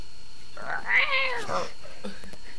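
A cat lets out a single drawn-out, rising and falling meow lasting about a second, fairly close and clear against a quiet room, with a brief faint sound trailing after it.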